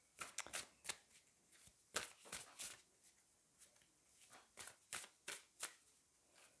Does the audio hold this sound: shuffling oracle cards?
yes